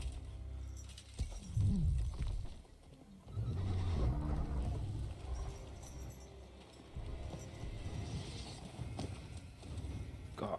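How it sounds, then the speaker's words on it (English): A horse in The Witcher 3 gives a loud whinny near the start, followed by clip-clopping hooves and scuffling movement at moderate volume, with no talk over it. "Oh, the horse."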